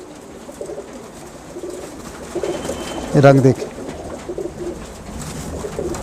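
Pigeon cooing in short bursts mid-clip from a green pigeon among a loft of pigeons, close, with someone talking over the bird sounds.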